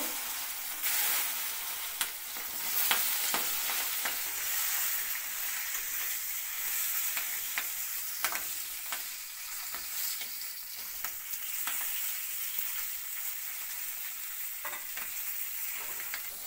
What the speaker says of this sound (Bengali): কড়াইতে ভাজা করা তেল আছে, এর মধ্যে শিমলা মরিচ টুকরাগুলি দিয়ে দিলাম। হালকা করে ভাজা করা হইব।